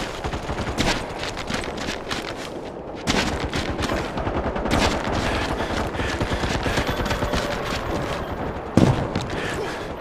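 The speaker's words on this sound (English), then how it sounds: "he's just gonna shoot me with an LMG" Light machine gun fire in the MAG shooter game rattles in rapid sustained bursts, with overlapping distant gunfire and a sharp louder blast near the end.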